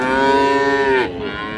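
A Friesian cow on a farm near Savar, Dhaka, lets out a single loud, sustained moo close by, tapering off abruptly at the end with no talking.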